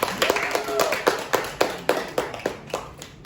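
Classmates in a classroom clap their hands in an uneven run of sharp claps, fairly close and moderately loud, with a voice talking faintly underneath.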